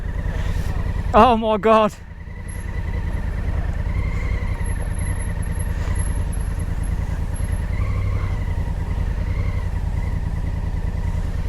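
A brand-new Kawasaki H2 SX SE motorcycle pulls away, its engine note rising and falling in steady revs over a continuous road roar after a brief exclaimed voice.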